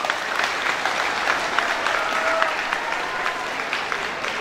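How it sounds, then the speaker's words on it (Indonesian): An audience at a Monday flag ceremony at a senior high school claps in a dense, continuous round of applause. It holds steady at fairly loud volume for several seconds, with faint crowd murmur beneath. "Tepuk tangan lagi, tepuk tangan buat."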